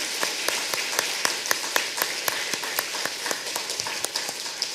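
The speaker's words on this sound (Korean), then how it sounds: "하나님께 우리 감사의 박수를 올려드리도록 하겠습니다" A church congregation claps in thanks during a Sunday morning worship service, a steady patter of many hands with sharper individual claps standing out, continuous and moderately close.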